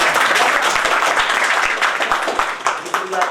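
A crowd at a product launch event in Mainpuri, India claps continuously, dense and fairly loud, with a voice speaking underneath the applause.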